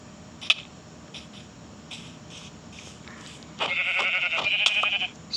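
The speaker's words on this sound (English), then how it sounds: "Hey, look, another sheep." A blocky sheep in the video game Minecraft gives one clear, nasal bleat that lasts over a second, close and loud, after a quiet stretch with a few faint clicks.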